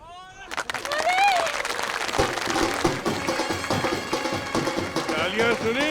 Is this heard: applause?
yes